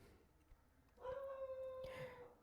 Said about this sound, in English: I'm sorry if you hear my dog